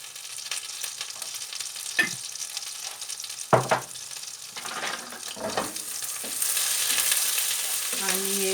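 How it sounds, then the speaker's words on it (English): Pearl barley pasta stir-fried in a pan for pilav, a soft steady sizzle broken by a few sharp scrapes and knocks of a spoon, the frying growing louder and hissier toward the end. "And you want to stir fry it like this until it starts changing its colour"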